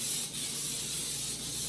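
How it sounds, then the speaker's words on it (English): Baker's Joy baking spray hisses into a cake pan for a red velvet cake, one soft, steady spray lasting under two seconds, fairly faint and close. "Baker's Joy spray going down in my pan."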